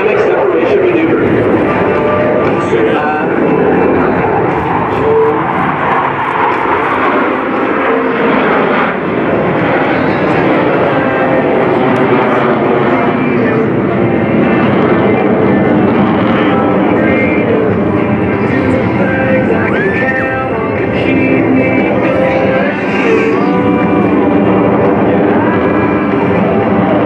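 US Navy Blue Angels jets performing a barrel roll break at the NAS Oceana airshow, a loud sustained jet roar with wind buffeting, heard under an announcer's continuous commentary.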